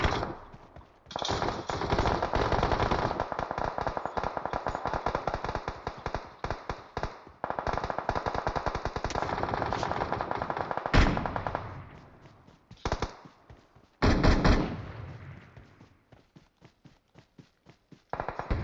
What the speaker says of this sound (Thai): มันมีคนยิงเขาเมื่อกี้ ไม่รู้ว่ายิงมาจากไหน